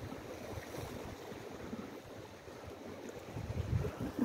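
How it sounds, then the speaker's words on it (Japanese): Sea waves lap around a small boat while squid fishing off New Zealand in mid-November. The wash is faint and steady, with light wind noise that swells slightly near the end, and no one speaks. "波が結構来始めたな。"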